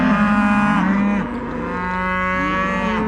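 Several bulls moo loudly and close by, their long, rich lowing calls overlapping and running on continuously, with no one speaking over them.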